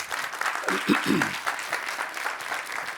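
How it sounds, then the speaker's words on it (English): Audience applause at a community college State of the College address, a steady wash of clapping through the whole stretch with a few voices and cheers mixed in. "Let's give her a round of applause, please."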